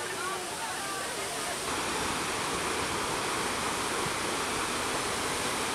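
Broad, steady roar of a waterfall at PingXi, Taiwan, rushing continuously and filling the air, with faint voices of people nearby underneath.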